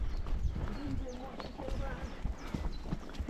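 Horse hooves clip-clopping at a trot while hacking out on a ride, a steady close rhythm running throughout with a rider talking over it.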